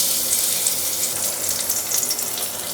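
Crushed garlic dropped into hot coconut oil in a pan, giving a steady, bright sizzle and crackle that stays close and fairly loud throughout, with no voices.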